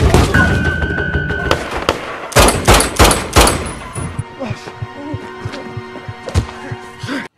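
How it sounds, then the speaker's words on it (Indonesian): Gunfire in a film shootout: a cluster of sharp, loud shots cracks out in quick succession, followed by scattered lighter impacts and other movie sound. "mereka pun dikejutkan saat Hammond dan rekannya terlibat baku tembak"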